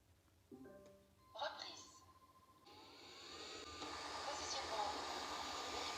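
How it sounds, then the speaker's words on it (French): A Roborock S8 robot vacuum powers up with a short rising chime of electronic tones, then its suction motor starts and builds into a steady, fairly loud whirring hiss. "Allume le Roborock S8."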